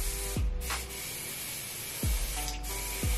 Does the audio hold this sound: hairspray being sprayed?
yes